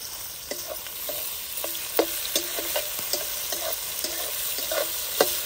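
Tomatoes go into golden sautéed onions for a raw papaya curry, and a spatula scrapes the pan in a regular rhythm of short strokes over a constant hissing sizzle, close and without voices.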